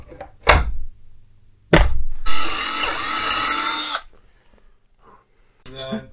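A saw cuts during an upgrade of a Veteran Sherman electric unicycle, one steady loud rasping stretch of about two seconds, framed by sharp knocks and clunks before and after.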